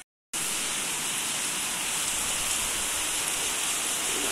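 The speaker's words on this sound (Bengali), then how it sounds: "একটু ঝিরিঝিরি ঝিরিঝিরি ভালোই পড়ছে, মোটামুটি ভিজে যাওয়ার মতো" Steady drizzling rain falls outdoors under a cloudy sky after a storm, a dense, even hiss that starts abruptly and continues unbroken.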